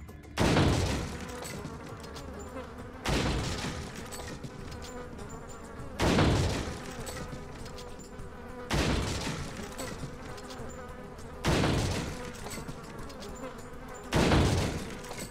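Insects buzzing in Resident Evil 4: a steady droning buzz runs throughout, interrupted about every three seconds by a sharp, louder burst, with little talk.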